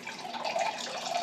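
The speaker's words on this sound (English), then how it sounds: "The next thing we're going to do is we are going to add some water." Filtered water from a Berkey filter pouring into flour for bread dough, a soft, brief trickle and splash heard close by with nothing else around it.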